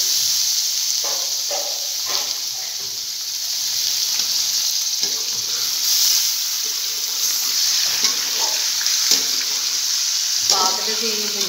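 Chicken pieces sizzle loudly in oil over browned onions, a constant hissing fry broken by repeated stirring scrapes and clatters throughout.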